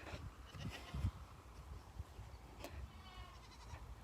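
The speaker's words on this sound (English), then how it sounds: "Our male goats are in rut right now, so they're going to be making a lot of noise." Male goats in rut bleat and call at a farm, a steady low murmur of livestock sounds mixed with outdoor background noise, fairly distant and faint.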